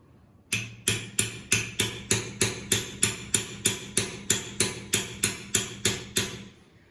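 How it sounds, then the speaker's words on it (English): Sharp metallic hammer strikes on a punch, dimpling plastic on a hammer drill, about sixteen evenly spaced blows in a steady rhythm, close and fairly loud, with no talking. "I'm going to take this punch and I'm going to make a indentation on the plastic"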